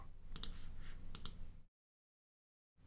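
Computer mouse clicked during UI design work, a few sharp, faint clicks close by over a quiet background, followed by a stretch of near silence.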